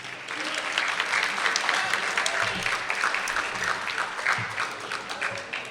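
Applause for election candidates and campaigners at a results announcement, a sustained burst of clapping from a crowd in a hall, steady and fairly loud throughout.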